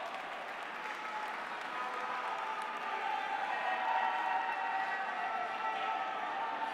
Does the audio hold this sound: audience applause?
yes